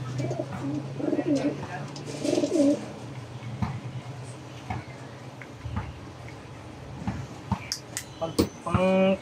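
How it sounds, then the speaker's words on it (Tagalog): A pigeon coos a few times in soft, throaty phrases amid light background noise and brief chirps, with some nearby talk. "Magandang ibon."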